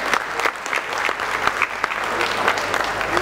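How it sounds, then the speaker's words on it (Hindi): An audience at an honorary doctorate ceremony gives loud, continuous applause, a thick wash of many hands clapping close by throughout. "जोरदार तालियों के साथ अभिनंदन करता हूं"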